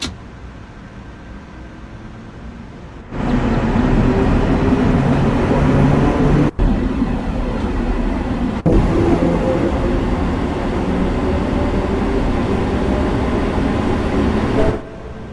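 A Harlem Line train in Train Sim World 5 pulls away, a loud steady rumble and drone rising abruptly after a quiet idle and holding for about twelve seconds, broken by two sharp clicks, then dropping off at the end.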